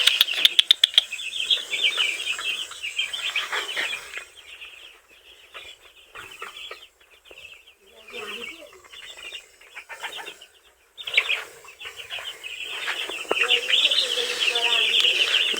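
A brooder of about a hundred four-day-old broiler chicks cheeps in a dense, close, high-pitched chorus that thins briefly in the middle before swelling again, with a faint voice at times.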